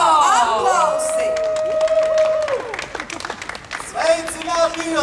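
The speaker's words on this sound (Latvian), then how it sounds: "Aplausi!" Festival crowd at the Riga city celebration applauds and cheers in a loud, steady wash of clapping and shouts, with a voice over a PA and tonal sounds cutting through before the applause thins near the end.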